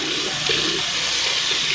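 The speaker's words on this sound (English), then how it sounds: "Just take it in the sink and rinse it off with some water." Tap water splashes steadily as a shower head crusted with hard-water buildup is rinsed off in a sink, a continuous close hiss with no one speaking.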